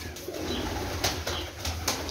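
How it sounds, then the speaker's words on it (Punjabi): A pigeon flaps its wings in flight outdoors, giving a few soft, quick bursts of fluttering over faint steady background noise. "ਬੜੀ ਪਰਵਾਜ਼ ਕਰਦਾ ਕਬੂਤਰ, ਦੇਖੋ ਮਾਸ਼ਾਅੱਲਾ"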